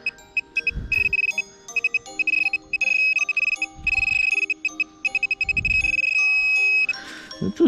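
A metal detector gives a string of electronic beeping tones while checking an unfilled dig hole, with stuttering bursts and longer sustained tones alongside a few soft scrapes and rustles.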